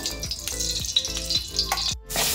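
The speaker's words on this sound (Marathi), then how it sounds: "तर या पनीरला आता आपण तेलामध्ये टाकलेलं आहे।" Paneer pieces fry in about two spoonfuls of hot oil in a pan for a burrito bowl, a steady close sizzle with rhythmic scraping stirs and a brief break near the end.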